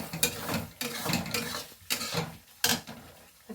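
A spoon stirs curry gravy in a metal pan while fish cooks on a home stove, giving repeated scraping clinks and sizzling in uneven bursts, close and moderately loud, with no talking.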